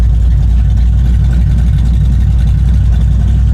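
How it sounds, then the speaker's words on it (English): A Holden VC Commodore 308 V8 idles through new exhaust mufflers with a deep, steady, throaty exhaust rumble, loud and close, holding an even tone throughout. "we've got our new mufflers on this exhaust and this thing is sounding much nicer"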